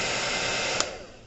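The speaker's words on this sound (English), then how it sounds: "Put a little heat on him from the blow dryer." Blow dryer aimed at a molded plastic Jedi figure, a steady loud airy whoosh running throughout with a brief bump near the end as it eases off.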